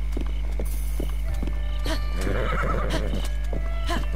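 A horse in Zelda: Breath of the Wild whinnies loudly in a long, wavering neigh, while its hooves clip-clop in a steady rhythm over a constant low hum.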